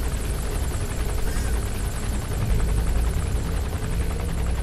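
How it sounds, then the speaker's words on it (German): A helicopter in the video game Metal Gear Solid V: Phantom Pain passes overhead, a steady, loud rotor and engine drone with a fluttering beat that holds for several seconds and swells slightly toward the end. "Wo ist denn der Hubschrauber jetzt? Das macht mich verrückt. Ach, oben über mich drüber."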